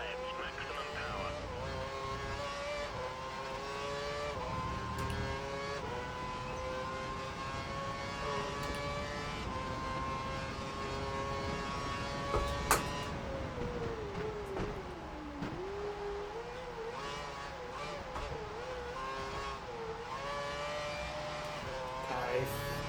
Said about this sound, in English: it looks like the car ahead is trying to create a gap. He's running full revs, maximum power